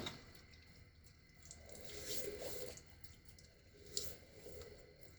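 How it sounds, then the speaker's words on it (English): A quiet faucet runs softly in a bathroom during a shave, a low steady trickle with faint splashes and drips of water. "I never realized how quiet this faucet was"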